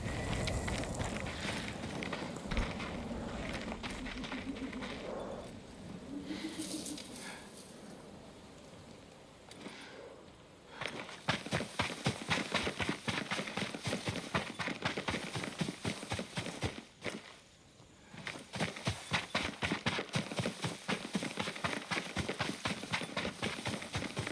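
Hooves of a horse in the Ghost of Tsushima video game clip-clopping in a steady walking rhythm. Fairly near and quiet at first, then louder and faster, with a brief pause before the hoofbeats resume.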